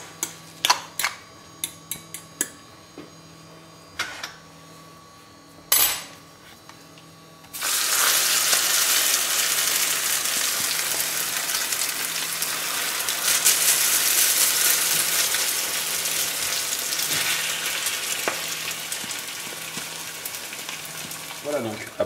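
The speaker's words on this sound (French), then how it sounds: "dans une poêle chaude avec un petit peu d'huile." Egg frying in a hot pan with a little oil: a few light ticks and knocks, then a loud, steady crackling sizzle that carries on close up, with no talk.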